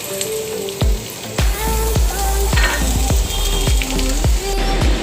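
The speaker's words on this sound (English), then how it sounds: "As the oil gets heated, let's fry the onions." Onions fry in heated oil with a steady, close sizzle, broken by regular scraping stir strokes and light knocks of a utensil against the pan, loud and with no voices.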